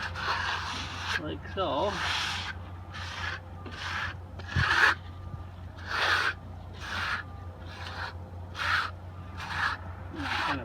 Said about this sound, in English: You take your trowel and bed it in there